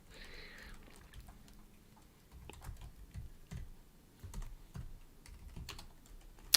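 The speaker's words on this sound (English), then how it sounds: "I'm typing it in chat" Quiet typing on a computer keyboard during a live coding session, with soft irregular clicks and taps heard close up and no talking.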